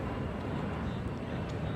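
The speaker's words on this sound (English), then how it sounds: "excuse the noise, it's a plane flying over." A steady, broad roar of an airplane passing overhead stays constant and fairly loud throughout the short stretch.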